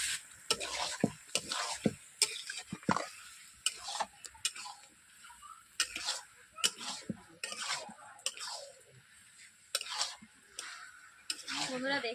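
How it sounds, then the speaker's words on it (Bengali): Chicken and potatoes being sautéed together in a pan for a Bengali chicken curry, with a soft sizzle under repeated sharp scrapes and clinks of a spatula stirring against the pan. "আমি আলু আর চিকেনগুলোকে আমি একই সঙ্গে কষিয়ে নিচ্ছি।"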